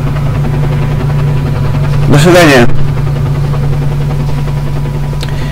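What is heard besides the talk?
helicopter in the video game Stalker: Call of Pripyat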